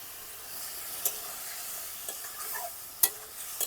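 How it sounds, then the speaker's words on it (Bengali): Spice masala with chilli powder and salt fries in a pan for a rohu fish curry with potato and tomato, a faint thin hiss with a few sharp spoon clicks as it is stirred. "মশলাটা ভালো করে কষিয়ে নেব"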